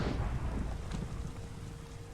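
Rain falls in the video game Minecraft FTB Skies, a soft, steady hiss of drops with a low distant rumble of thunder fading over a couple of seconds, faint and without speech.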